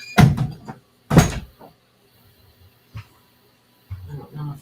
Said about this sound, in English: So, I gotta close my door.